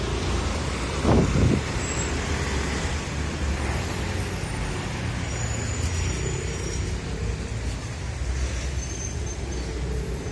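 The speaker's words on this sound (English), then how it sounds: "That's my bus." A city bus passes on a street in the Mesa neighbourhood of Envigado, heard as steady, close roadway rumble and engine noise that swells slightly, with faint traffic sounds around it.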